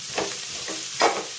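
Sliced onions frying in a pan for a home-style Kerala kappa biryani, a soft steady sizzle with a few light stirring scrapes, close and without talk.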